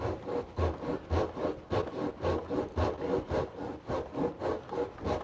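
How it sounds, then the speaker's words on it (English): A Japanese pull saw cuts through wood in a steady rhythm of rasping strokes, about two to three per second, close and fairly loud with no talking. "Richard, these Japanese pull saws are the business, buddy. You can be so much more accurate with them."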